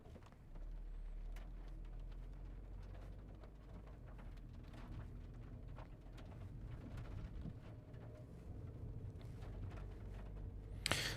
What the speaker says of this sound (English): A lot of people complaining about how loud the thunder is.